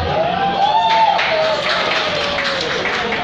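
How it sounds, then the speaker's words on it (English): An audience applauds at a live performance of sung pop covers, with a steady wash of clapping and some whoops and cheers. It is sustained and fairly loud throughout. "applause for the wonderful woman in the corner"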